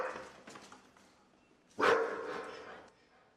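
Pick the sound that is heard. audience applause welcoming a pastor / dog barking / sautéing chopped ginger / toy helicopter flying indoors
dog barking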